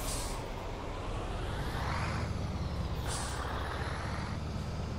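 A steady, loud Scania Series 2 truck engine in Euro Truck Simulator 2 drones continuously, with brief higher hisses like air brakes rising over the rumble.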